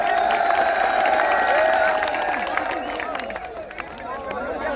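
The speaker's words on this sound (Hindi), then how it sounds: "एक बार तालियां बजा करके स्वागत करिए।" A crowd at a night gathering of a farmers' protest claps in welcome for a district official, loud at first and then thinning out, with voices and a sustained tone running through it.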